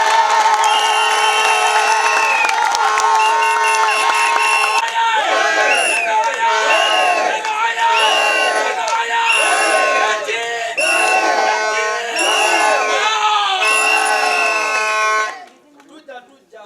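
A large crowd at a public gathering cheers, shouts and claps loudly and continuously, rising in waves of ululation and whoops before cutting off abruptly near the end.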